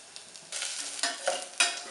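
Onion sizzles and fries in a pan while being stirred for an Oriya dalma tempering with panch phoron, a close crackling hiss with several louder stirring bursts.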